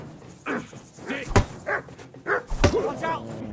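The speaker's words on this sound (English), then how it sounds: "Watch out! He's got a dog!" A dog barks a couple of sharp times in the game Kingdom Come: Deliverance 2, mixed in with shouting voices and a thud, heard near and fairly loud.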